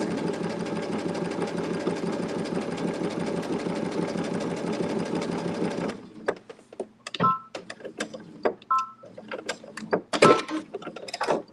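A sewing machine runs steadily, top stitching light gray thread on an appliqué fabric sailboat sunset, a continuous dense whir for about six seconds, then stops, leaving scattered short clicks and handling noises.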